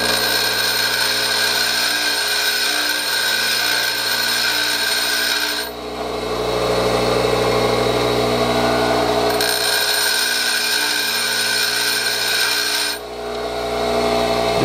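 Pipe threading machine cutters from a Toledo No. 1 being sharpened against the side of a grinding wheel, a steady loud rasping grind that runs continuously with two brief dips as the cutter is lifted and repositioned.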